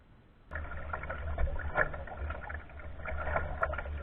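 A kayak paddled across saltwater near a small island: low rumbling water and wind-like wash with rhythmic splashing strokes, fairly close and steady, no talking.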